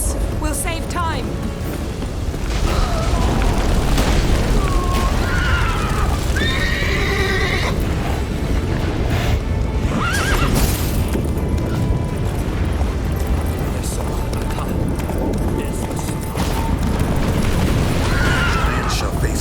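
A horse in The Witcher 3 whinnies several times over steady clip-clopping hooves and a dense game soundscape of rumbles and clatter, loud and continuous throughout.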